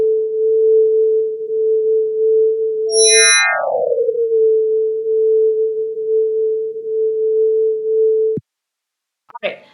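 A stellar flare light curve rendered as sound by Astronify: a constant pure tone suddenly jumps to a high, rich chirp that sweeps back down and settles into the same steady hum, cut off sharply before a brief bit of noise.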